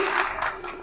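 Audience applause for a graduate at a leadership and communication workshop, a brief burst of dense clapping from a crowd, fairly loud and close.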